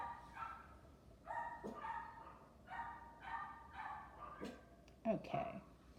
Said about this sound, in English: so those are my dogs